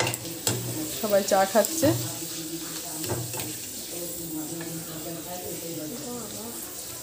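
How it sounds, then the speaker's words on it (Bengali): Papad frying in hot oil for morning tea makes a steady sizzle and crackle throughout, with a few stirring clatters early on and people talking over it. "ওর জন্য পাঁপড় ভাজা করা হচ্ছে"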